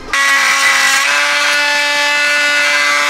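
Power saw for wood demolition work grinding against plastic spoiler tabs on an A91 Toyota Supra, starting abruptly and running loud and close as a harsh steady whine with a rough buzzing drone.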